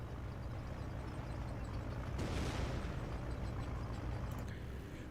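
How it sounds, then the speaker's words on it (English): A muffled airstrike explosion in the real-time strategy game Company of Heroes, one broad rumbling burst rising midway over constant battlefield background noise. "Heard some explosion over here."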